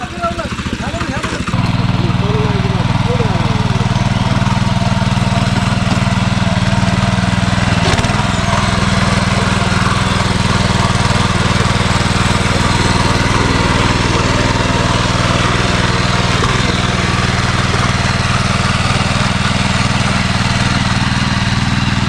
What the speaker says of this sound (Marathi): वरच्या बाजूस आहे ना तिकडे ट्रॅक्टरने फोड सुरू आहे नांगरणी सुरू आहे